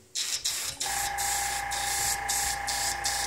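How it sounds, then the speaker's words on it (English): An airbrush gives test bursts of paint before work on a motorcycle, several short hissing sprays that start and stop over a steady compressor hum, close to the microphone. "first we're going to test our spray out like we always do"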